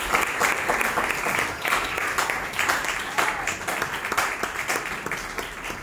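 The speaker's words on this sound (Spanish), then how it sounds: "Denle un aplauso al Señor." Church congregation clapping loudly and continuously during an evangelical service, a thick burst of applause with sharp individual claps and some crowd voices mixed in throughout.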